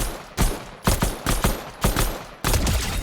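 Pistol fire in Fortnite Season 2, a series of separate sharp shots in an uneven rhythm, about six or seven loud reports with short decaying tails and brief silent gaps between some of them.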